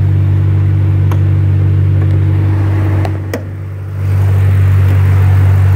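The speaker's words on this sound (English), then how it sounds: "It's got the dual exhaust with that good Mustang sound." A 2008 Ford Mustang GT with its V8 idles through dual exhaust, giving a loud, steady low rumble close by that dips briefly and then returns, with no speech.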